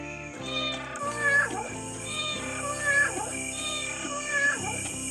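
A voice imitates a cat in a puppet show, giving several drawn-out meows in a row, close and fairly loud over a soft musical background.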